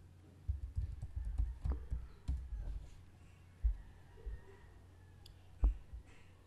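Password typed on a computer keyboard during a sign-in: quiet irregular bursts of key clicks with brief pauses and a few sharper, louder taps, close by against a faint low hum.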